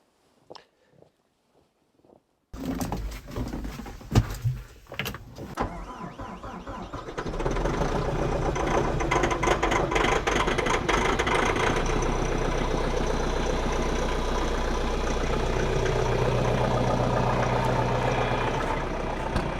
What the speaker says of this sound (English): This tractor starts so good in the cold.